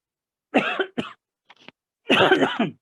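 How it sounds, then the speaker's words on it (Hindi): A person coughs several times in short, harsh bursts close to the microphone, the last cough longer and stronger. "आज खांसी हो गई यार।"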